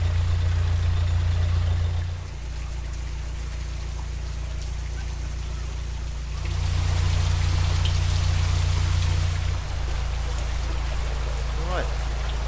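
Water rushes through a raised canal lock paddle beside a narrowboat, a loud, continuous low roar and churn that swells and eases slightly, with a steady rumbling hum underneath.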